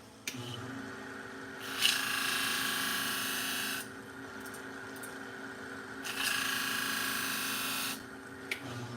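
Pet grooming shears being sharpened on a 1,000 grit stone. Two long, steady rasping strokes are separated by quieter pauses, with a low background hum throughout.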